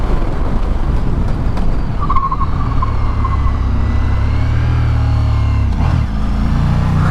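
A Ducati XDiavel V4 motorcycle ridden on the Route Napoleon in the south of France gives a loud, steady engine drone with wind rush, its pitch dipping briefly near the end before settling again.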